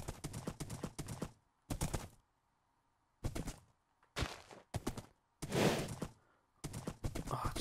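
Horse hooves clip-clopping in Minecraft Bedrock Edition, heard as several short bursts of rhythmic clatter separated by pauses, fairly faint overall.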